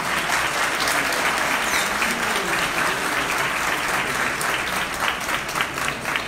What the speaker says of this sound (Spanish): para quienes pedimos un fuerte aplauso